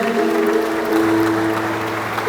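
A church congregation at a Sunday service applauds in a steady, dense wash of clapping that goes on without a break. An organ or keyboard holds a note underneath.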